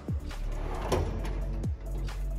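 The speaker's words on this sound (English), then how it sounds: "These do have the soft close drawers on them." Soft-close drawers on a shop toolbox slide and ease shut, with a couple of short rolling strokes and soft thuds close by and no talk.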